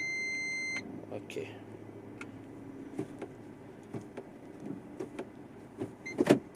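A Perodua Myvi Advance facelift 2022 clicks as its door locks release automatically with a gear change, preceded by a short beep, with scattered clunks and a voice speaking close by inside the cabin.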